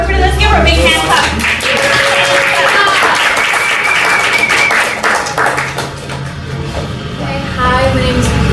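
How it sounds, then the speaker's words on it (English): An audience at a spring poetry gathering claps for a poet: steady, dense hand clapping that fills the room, with voices talking over it throughout. "everybody let's give her a big hand clap."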